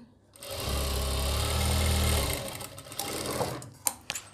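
A sewing machine stitches a folded strip along the edge of a kameez lining, a steady fast hum for under two seconds followed by quieter fabric handling and a few soft clicks.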